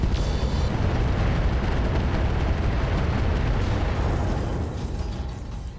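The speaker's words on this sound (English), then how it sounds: "we're going to fire on the Ghost with AX rounds" Weapon fire with AX rounds in the mech video game RogueTech, a loud continuous booming roar of heavy artillery-like blasts that fills the clip and slowly fades toward the end.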